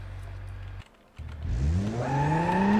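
A car engine in the driving game BeamNG.drive idles, cuts out briefly, then revs up with a rising whine that climbs steadily in pitch.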